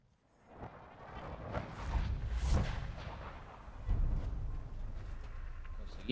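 Distant booming gunfire and explosions rumble through a Fallout 4 soundscape, swelling in bursts with a heavy low-end thud.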